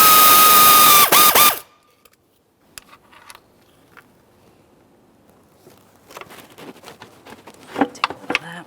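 A ratchet works on the throttle body mounting bolt of a 2013-2020 Ford Fusion 2.0L I4, with faint clicking turns coming in short runs after a loud opening burst and a quiet stretch.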